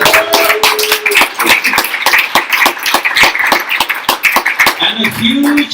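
Applause from an audience at a Latin America solidarity forum, sustained and fairly loud for several seconds with dense overlapping claps.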